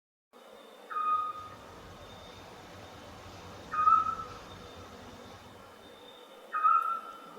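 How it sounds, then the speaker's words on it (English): An owl gives three evenly spaced hoots, each a short rising then steady tone about three seconds apart, clear and fairly close over a soft steady background hiss. "This is an owl. O for owl."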